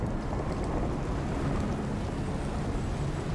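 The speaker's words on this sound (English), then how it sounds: "Oh crap, that's a lot of wind." Strong wind roars steadily in Shadow of the Tomb Raider, a dense, unbroken low rumble like gusts buffeting a microphone, loud and constant throughout with no voices.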